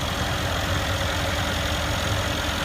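A Mercedes-Benz SL63 AMG engine runs steadily at idle, giving a continuous, loud, even rumble across the whole moment with no voices.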